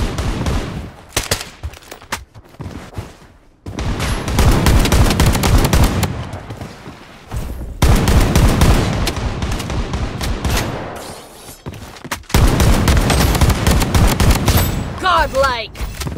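Gunfire in the mobile shooter Blood Strike: loud bursts of automatic fire in several long stretches separated by short gaps, with game voice callouts over the shooting.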